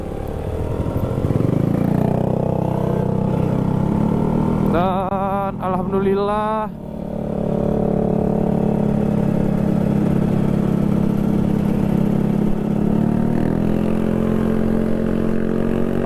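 Old motorcycles ride at night on a trip to Malino, their engines giving a continuous mid-pitched hum that shifts gradually. A short burst of someone speaking cuts in midway.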